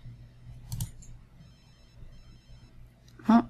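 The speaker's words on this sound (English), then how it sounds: "Whose cell phone is ringing?" Cell phone ringing in The Sims 3 game, a faint electronic ring over a soft low hum, with a brief louder burst near the end.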